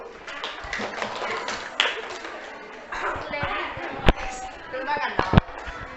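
Students in a classroom clap for a winning group, uneven clapping mixed with voices and chatter, several sharp louder slaps standing out near the end.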